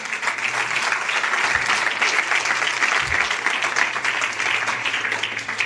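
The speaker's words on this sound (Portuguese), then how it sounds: "Você pode aplaudir mais forte se for para ele." A church congregation applauds at a Portuguese-language sermon, a dense, steady roar of many hands clapping throughout, loud and continuous with no talk over it.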